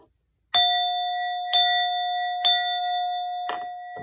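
A bell is struck four times about a second apart, each strike ringing on with a sustained, clear tone; the final strike is softer and duller.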